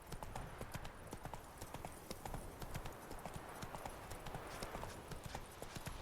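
Hooves of Roach, the horse in The Witcher game, clip-clopping in a steady, rhythmic gait throughout, close and continuous over a dense background wash.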